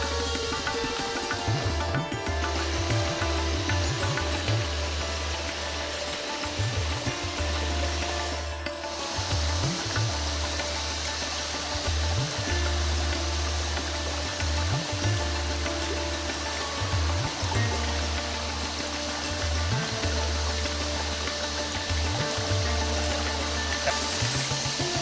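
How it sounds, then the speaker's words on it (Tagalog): A continuous broadband rush of falling water from a waterfall in San Miguel, Leyte, fills the whole stretch, steady and loud, with a low recurring rumble underneath and no voices. "rinig na natin yung ragasan ng tubig"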